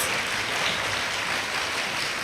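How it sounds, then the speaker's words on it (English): Steady applause from a crowd at a girls' STEM camp closing ceremony, dense and continuous throughout, with no voices standing out. "another round of applause to ourselves"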